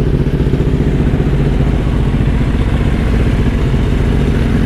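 A KTM Duke 790 motorcycle engine runs close by, a loud, continuous throbbing rumble with a steady pulsing beat.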